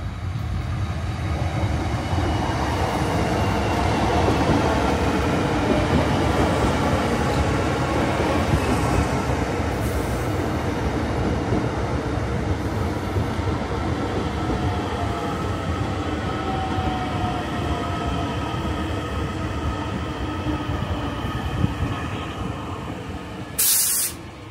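A train rumbles steadily at Dalkey railway station on the Dublin coastline, a continuous loud roar and hiss of wheels and carriages sustained throughout, ending with a brief sharp burst.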